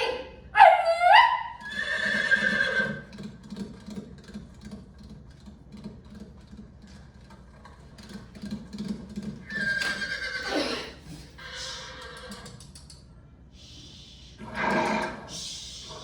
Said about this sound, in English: We'll take the horse-drawn wagons.